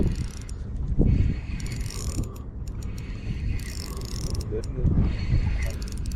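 A Shimano Bastera spinning reel on a boat is cranked to bring in a fish, giving a clicking, whirring mechanical winding amid splashes, handling knocks and water noise, close to the microphone.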